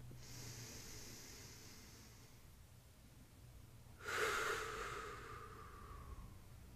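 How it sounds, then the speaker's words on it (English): A single long, audible breath drawn in and released during a guided relaxation moment, a soft airy hiss rising sharply near the end and fading out. "Take a deep breath."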